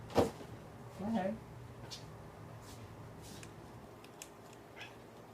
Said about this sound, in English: Sorry, my cat is chasing a fly.